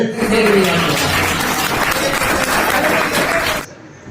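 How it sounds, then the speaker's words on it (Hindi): Audience applause at a Hindi poetry gathering (kavi sammelan) for Rajbhasha Parv, a dense, steady wash of clapping sustained for several seconds before cutting off abruptly, with a few voices and faint laughter mixed in. "तो आप लोगों ने तालियां बजाई साहब"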